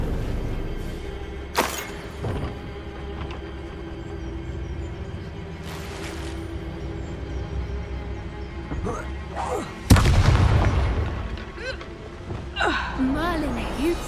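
A Bombarda blast spell explodes in Hogwarts Legacy, with a sharp, heavy burst near the ten-second mark after a couple of lighter thuds. Steady game ambience and faint vocal sounds run underneath.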